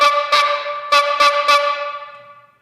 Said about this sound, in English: maybe your parents bought you a bicycle horn